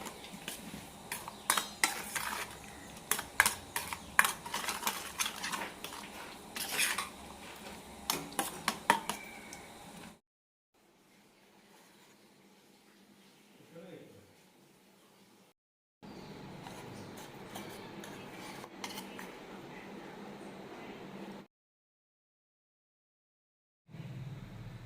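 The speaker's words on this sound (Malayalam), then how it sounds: "നന്നായി മിക്സ് ചെയ്യാം." Vellapola batter with sugar stirred in a metal vessel, clinking utensil taps and scraping in bursts at moderate loudness, separated by near-silent gaps.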